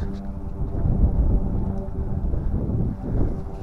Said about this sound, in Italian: Però il mare si è calmato, perché oggi c'è vento.